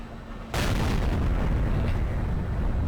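A tank cannon fires in World of Tanks, one loud close blast that hits abruptly and leaves a long rumbling roar trailing behind it.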